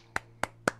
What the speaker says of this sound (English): then a clap was heard,